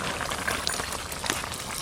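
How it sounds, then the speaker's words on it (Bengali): Water boiling in a pot while cooking lau chingri, a dense continuous bubbling and hissing roil, close and steady throughout with no voices. "জলটা ফুটে উঠেছে"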